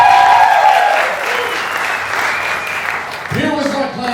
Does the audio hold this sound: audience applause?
yes